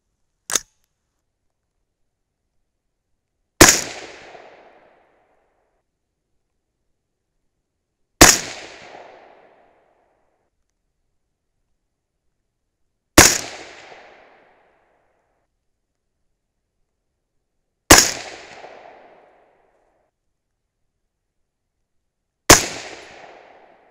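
Six sharp .223 Remington rifle shots firing Hornady V-Max bullets, each a loud isolated crack with a brief decaying tail, spaced roughly four to five seconds apart with silence between, no talking.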